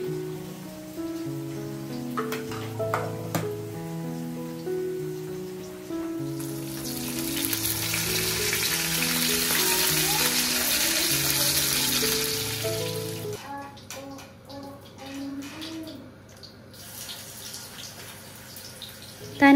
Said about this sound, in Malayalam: ഞാൻ ദാ ചെറിയുള്ളി ഇത് താളിച്ച് കറിവേപ്പിലും കൂടി ഇട്ടിട്ട് താളിച്ചിട്ട് ഞാൻ അത് ഒഴിക്കാൻ പോവാണ്.